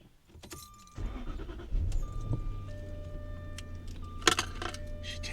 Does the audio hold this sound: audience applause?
no